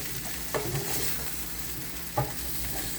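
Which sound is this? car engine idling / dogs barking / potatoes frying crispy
potatoes frying crispy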